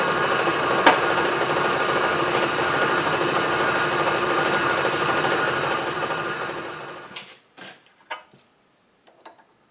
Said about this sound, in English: Cutting the left-hand threads for this